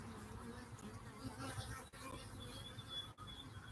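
Honeybees buzz around a large chunk of comb during a spring hive inspection, making a steady, dense drone of many insects close by with no pauses.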